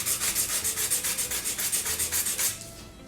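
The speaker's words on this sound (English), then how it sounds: "this fine grit piece of sandpaper. It's pretty easy to come off." Fine-grit sandpaper rubbed lightly back and forth over a homemade Christmas countdown piece, about a dozen steady rhythmic scratchy strokes close up before fading out.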